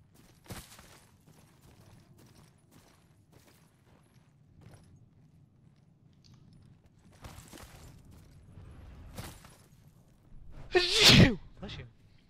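A sneeze bursts out sharply near the end, loud and close, after a stretch of quiet muffled game sounds and faint background noise during an Apex Legends match.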